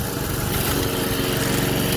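A Toro 53 SP self-propelled lawn mower runs close by, cutting through old overgrowth. Its engine gives a loud, steady, buzzing drone without a break.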